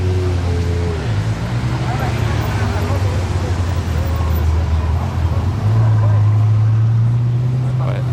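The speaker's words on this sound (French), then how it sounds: "Il y a deux Ferrari qui passent, c'est quoi? C'est une Aperta." Two Ferrari cars, one an Aperta, pass by at an outdoor car gathering, a low engine rumble that swells toward the end, with someone talking over the noise.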